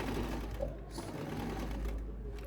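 A sewing machine runs steadily, double stitching wefts of hair bundles, its fast continuous stitching loud and close throughout with no pauses.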